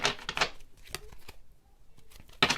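Tarot cards are shuffled up close in a few quick riffling bursts separated by short pauses, crisp and fairly quiet.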